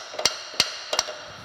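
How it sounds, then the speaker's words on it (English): A lead hammer taps a part into place on a metal planer during restoration, three sharp close knocks spaced about a third of a second apart, each ringing briefly. "lead hammer here to tap that in place"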